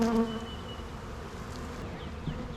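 Honeybees hum around a yellow beehive during a spring inspection, a close, steady buzzing with individual bees droning past, no one talking.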